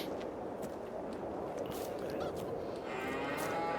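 Cows in the farming video game Farming Simulator 22 low and moo over a steady, dense farmyard background, the calls blending into continuous ambient noise rather than standing out as distinct, separate moos.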